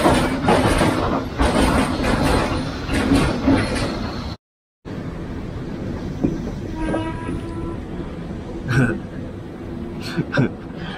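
A train rumbles and clatters along a railway platform, loud and close. The noise drops out briefly, then the wagons rattle on with squealing wheels and a horn.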